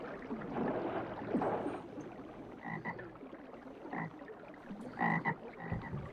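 Frogs croaking, a series of short separate croaks at uneven intervals over a low watery ambient bed, fairly close and alone without talk.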